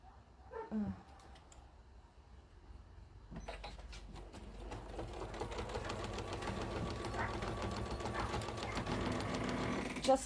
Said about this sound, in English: I'm just going to stitch that up